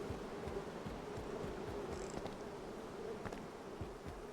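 Bees swarm after a beehive is hit in a video game, a continuous close buzzing drone with faint fluttering pulses, steady and alone.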